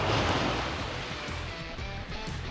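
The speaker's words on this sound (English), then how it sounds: "the tide has finally reached the fire" Ocean surf at high tide washes up a beach over the remains of a campfire, a loud close wash of rushing water that swells and then slowly recedes, with no speech.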